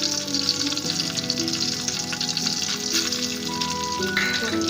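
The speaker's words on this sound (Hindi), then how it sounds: "थोड़ा सा फ्राई करेंगे।" Cardamom powder and fennel frying in a little oil in a home kitchen, a steady close sizzle and crackle throughout, with faint kitchen sounds and no talk.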